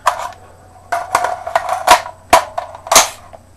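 Compact five-round .45 auto pistol firing five or six sharp, loud shots in an irregular sequence over a few seconds, each crack followed by a short ringing tail, with no talking.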